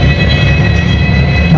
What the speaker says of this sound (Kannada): ನಮ್ಮ ಟ್ರೈನ್ ನಿಂತ್ಕೊಂತು